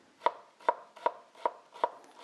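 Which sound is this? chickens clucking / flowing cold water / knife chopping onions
knife chopping onions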